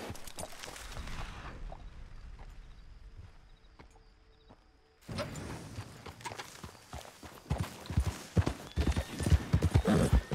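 In the video game Red Dead Redemption 2, horse hooves clip-clop at a walking pace, fading out briefly before returning louder and closer with a steady clattering rhythm.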